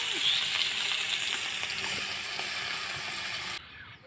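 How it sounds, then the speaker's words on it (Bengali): Prawns frying in hot oil in a wok give a loud, continuous crackling sizzle that runs steadily and then drops off abruptly near the end. "এখন চিংড়ি মাছগুলো ভেজে নেব"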